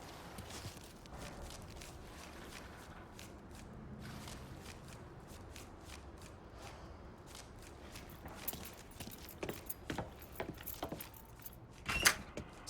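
Keys jangle in Mafia III, a handful of soft metallic rattles and shuffling clinks growing busier toward the end alongside faint footsteps and room noise, with no talking.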